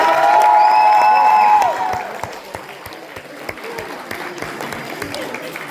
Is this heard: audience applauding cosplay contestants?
yes